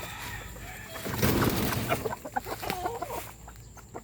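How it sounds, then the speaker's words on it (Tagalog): Chickens cluck and squawk close by, a busy overlapping flurry of calls that rises and settles over a few seconds. "Manghuli ng manok"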